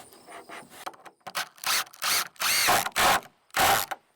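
Screws being driven into a board with a power drill, a series of loud whirring bursts of rising length separated by short pauses, close up with no talking.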